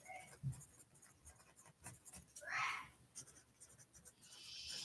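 A pen scratches across paper in short, quiet strokes and pauses while working a statistics problem, close to the microphone with no talking.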